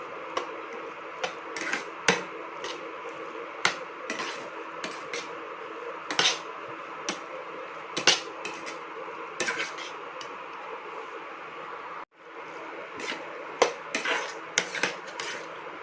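Pav bhaji being mixed in a pan: sparse metallic clinks and taps of a spoon against the pan ring out at uneven intervals over a steady low background hiss.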